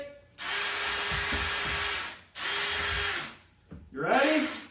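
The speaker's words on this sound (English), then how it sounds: "Joe is going to be drilling another hole, which should come up closer to the wall" A power drill bores through a house wall in three bursts, a close, loud whining motor with grinding bite, separated by short pauses and ending in a rougher, shifting burst.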